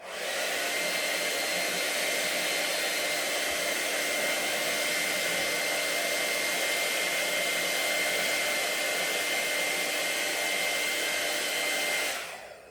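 A hair dryer blows on wet decoupage glue, a loud, steady whooshing whine held close and unbroken for about twelve seconds before it cuts off.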